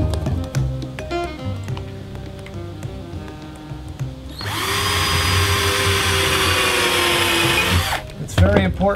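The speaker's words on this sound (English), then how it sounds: "It's very important to countersink these holes so that the screws do not dig into whatever floor" A power drill countersinks screw holes in wooden rails, a loud steady high whine lasting a few seconds at close range, after several seconds of lighter tapping and clicking, then a few knocks as it stops.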